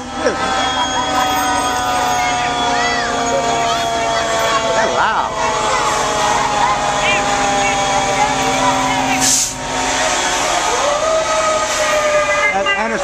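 Fire truck siren with sustained horn tones from the Anderson City Fire Department passing in a Christmas parade in Anderson, South Carolina, loud and continuous throughout, with crowd chatter and talk underneath.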